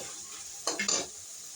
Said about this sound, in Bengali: এখন আমি আগে থেকে যে ফুলকপি, মূলা কেটে ধুয়ে রেখেছিলাম সেগুলো এখন এখানে অ্যাড করবো আর কি।